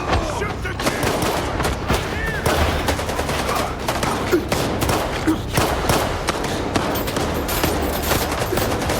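Dense, continuous gunfire in STALKER 2, with overlapping automatic bursts and explosions forming a loud, unbroken battle din, and voices faintly mixed in.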